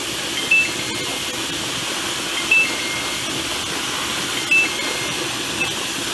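Steam vents from a pressure canner while beans are being canned, giving a steady, loud broadband hiss throughout, with three short, faint high beeps spaced about two seconds apart.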